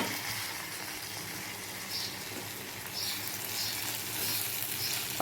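Beetroot curry fries in a pan, giving a steady close hiss and sizzle with a faint watery crackle throughout and no voices.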